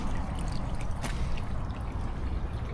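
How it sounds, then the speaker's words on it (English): Continuous rushing water, a dense steady wash of noise pouring down a canal bywash weir, close by with no voices. "I can certainly hear water running underneath my feet down the bywash weir"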